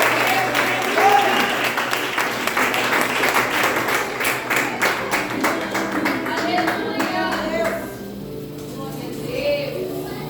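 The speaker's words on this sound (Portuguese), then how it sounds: "Aplauda o Senhor em nome de Jesus." A congregation at a church service applauds together in steady, dense clapping that tapers after several seconds, with voices and a faint musical tone underneath.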